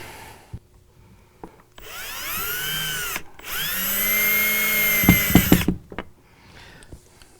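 A power drill tightens clamp screws on a Berkeley jet drive boat, whining in two loud bursts that rise and fall in pitch, with clicks and knocks of handling before and after.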